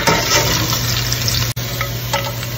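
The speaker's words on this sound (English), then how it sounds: "Sauteing the garlic." Garlic sizzles and fries in a hot pan, a steady close crackle with light stirring scrapes and a brief dropout midway.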